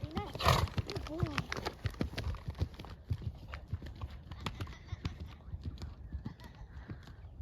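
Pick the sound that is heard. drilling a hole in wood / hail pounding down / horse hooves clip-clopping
horse hooves clip-clopping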